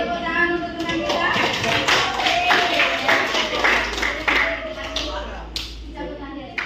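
Classroom applause for students who just finished a group presentation: a dense patter of many hands clapping, fairly close and steady, fading slightly toward the end with a few sharper claps.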